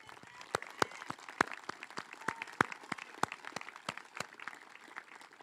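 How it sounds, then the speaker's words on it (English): A high school commencement audience gives a round of applause for award recipients, scattered sharp claps from a modest crowd heard at moderate distance and fairly faint. "Can we have a round of applause for those recipients?"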